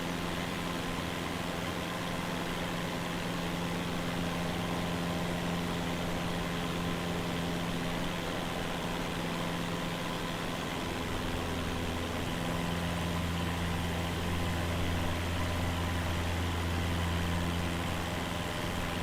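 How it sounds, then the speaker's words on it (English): Cessna 172 piston engine drones steadily in flight, a loud continuous low hum with a constant pitch and a slight shift in tone partway through, no talking. "I was sitting listening to the engine earlier before we took off."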